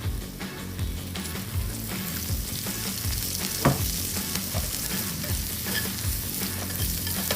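Teriyaki chicken frying in oil, with a continuous close sizzle and stirring scrapes, crackling throughout without a break.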